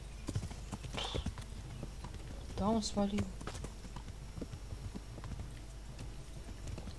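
Horse hooves clip-clop steadily at moderate distance in the video game Kingdom Come: Deliverance, while someone briefly speaks over them.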